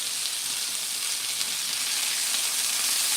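Lamb sears in olive oil in a hot pan with a loud, steady, broadband sizzle that hisses on evenly for the whole stretch, with no voices.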